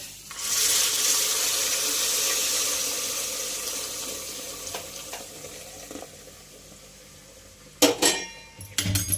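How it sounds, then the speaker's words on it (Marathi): Boiling water pours steadily into a pot of jaggery porridge for several seconds with a bright hissing splash, followed by a few clanks of utensils near the end. "पाणी मी बाजूला उकळायला ठेवलेलं होतं आणि तेच पाणी घालणार आहोत आपण"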